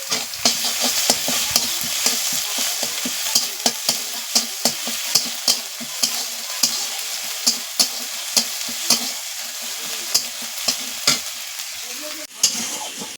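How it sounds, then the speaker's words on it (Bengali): Garlic paste frying with chopped onions in oil in a pan, a steady close sizzle broken by frequent sharp clicks and scrapes of a spoon stirring, with no talk. "পেঁয়াজটা ভাজা হয়ে গেছে এবার আমি রসুন বাটা দিয়ে দিচ্ছি এক চামচ"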